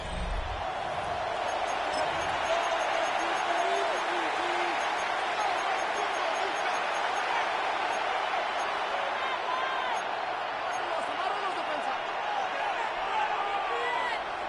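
A stadium crowd cheering in the Madden NFL football video game as third down approaches: a steady, distant-sounding roar of fans lasting throughout, with faint bounces or thumps in the noise.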